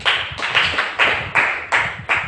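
Rhythmic group clapping at a church service, steady beats about every half second, loud and close, with no talking.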